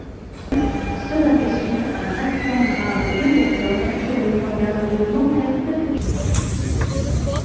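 A Paris RER commuter train runs through a station, with a steady rolling rumble and metallic wheel whine throughout, rising into brighter hiss and screech near the end as someone speaks over it.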